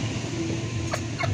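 Local Koyla chickens clucking at a poultry shop, a couple of short, close clucks over a steady background murmur.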